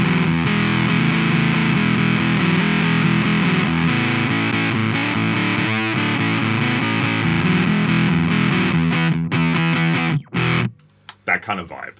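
Electric guitar through a Warm Audio Foxy Tone Box fuzz pedal with a thick, saturated fuzz tone, sustained chords ringing loudly before cutting off into a few choppy, muted strums near the end.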